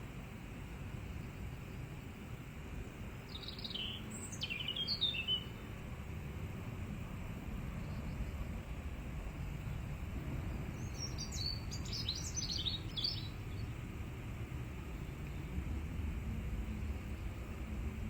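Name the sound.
recorded birdsong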